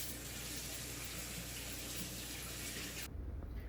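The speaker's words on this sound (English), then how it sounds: "I'm gonna get my hands washed" A kitchen tap runs steadily at full flow while hands are washed before cooking, a loud close rushing of water that cuts off abruptly near the end.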